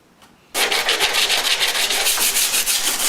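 Sanding a filler of talcum powder and resin on a Honda Sabre cafe racer project, with a steady, loud rasping scrape that starts abruptly after a brief quiet and continues in quick rhythmic strokes.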